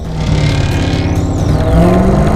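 A race car on track during a lap of a multi-day road-racing event, engine droning loud and steady with pitch sweeping up and down through the gears, tires working through turns, close and continuous with no talk.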